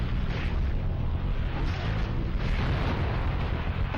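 A generator destroyed in the Spider-Man video game, a continuous rumbling explosion with a deep, roaring low end that stays loud and dense throughout, without speech.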